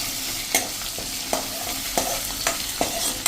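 Garlic and ginger fry in oil on a slow to medium flame with a steady sizzle, broken by regular sharp scrapes of a spoon stirring the pan about every half second.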